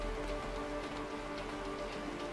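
Steady rain pours in the video game A Way Out during a storm, a continuous even hiss of falling drops over a low hum, with no talk.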